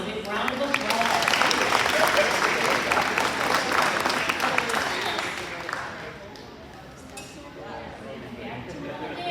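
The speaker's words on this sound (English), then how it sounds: "From Mrs. Dom, a big round of applause." Elementary school ceremony audience giving a big round of applause, steady clapping from a crowd that swells for several seconds and then thins to scattered claps as the room settles.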